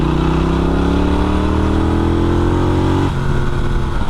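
A Norton Commando 961 motorcycle engine revs hard and loud under acceleration, its droning note climbing steadily in pitch before a brief gear-change dip near the end, then pulling on again.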